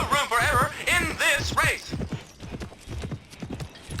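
Hoofbeats of a horse named Altai in the video game Petz Horse Club clop under game music, with whinny-like tones early on and a steady rhythmic gait continuing.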